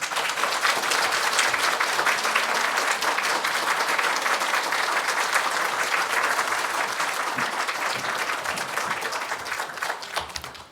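A church congregation at a Sunday service applauds to welcome the senior pastor, a sustained, full crowd of clapping lasting around ten seconds, even and dense before tapering slightly at the end, with no talk over it.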